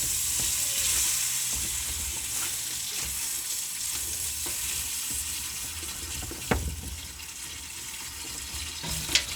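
Bacon frying in a pan while being stirred, a steady crackling sizzle close by with occasional utensil scrapes and a couple of sharper knocks, no talking.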